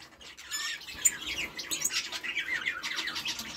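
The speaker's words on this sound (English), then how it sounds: "this is one of our canary females" A female canary kept in an indoor aviary gives faint, quick high chirps and squawky calls in scattered bursts, close and alone with no talking.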